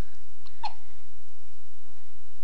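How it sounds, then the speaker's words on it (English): A 12-day-old newborn baby gives a short hiccup, one quick, small sound amid a steady background hiss, with nothing else following. "You have hiccups again."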